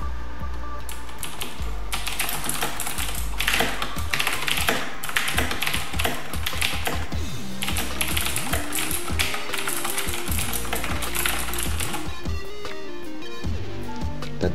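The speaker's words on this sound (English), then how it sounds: "Mechanical switches sound and feel different than your typical rubber dome and scissor switches." Typing on a Razer BlackWidow Expert mechanical gaming keyboard with tactile switches, a steady dense clatter of close, crisp keystrokes that carries on throughout with no talking.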